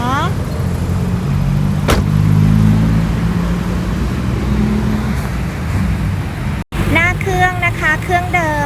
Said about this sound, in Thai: เป็นเครื่องยนต์พันหกเป็นซินสภาพดีมาก ๆ เลยค่ะ